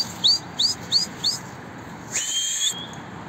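Birds let out four quick, close chirps in a row, then a longer whistling call sounds as they take off, startled by a fishing rod, over a faint outdoor background.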